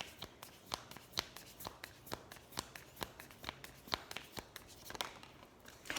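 Tarot cards being shuffled by hand, a steady run of crisp riffling snaps and soft slides repeating close by with no talk over it.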